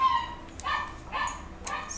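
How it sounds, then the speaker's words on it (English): A dog barks a few times in quick, high yips, fairly close, with short gaps between each bark. "Sorry, I have a barking dog."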